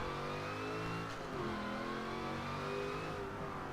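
A car engine revs hard at mid pitch from third gear as the driver turns in to start a drift, sustained and droning with slight pitch shifts, heard alone.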